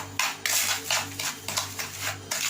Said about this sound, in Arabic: كنطربو مزيان بهاد المعلقه